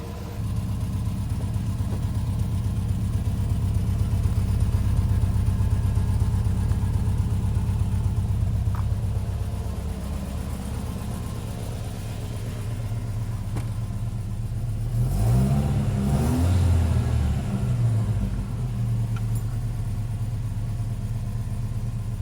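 A modified engine in a 1970s-era Volvo 142 runs during camshaft break-in, holding a steady loud rumble, then dropping to a lower idle with a brief revving burst near the end.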